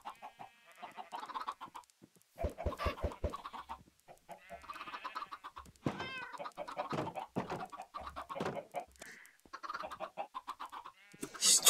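Chickens in the video game Minecraft cluck and squawk in scattered bursts, close and fairly clear, with brief quiet gaps between calls and a few sharp clicks.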